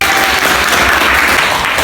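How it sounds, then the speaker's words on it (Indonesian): Loud, dense applause from a classroom of students during a lesson, steady and close for just under two seconds with no talking. "Tepuk tangan buat saya."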